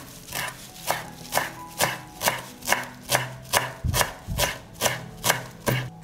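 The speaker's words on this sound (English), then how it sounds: "and now I'm going to chop the parsley." A knife chops parsley on a board in a steady, even rhythm of about a dozen firm, close thuds, loud and clear with no talk.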